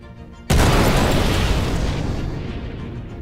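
A size four missile strikes a small ship's shields in a space combat video game, one abrupt loud boom that rolls into a long, slowly fading roar of debris and rumble.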